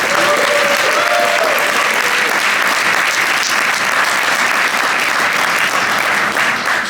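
Loud, dense audience applause and cheering for a band at the Deep Dish Swift 2025 conference, sustained clapping from a large crowd filling the room for the whole stretch, with a brief whistle early on.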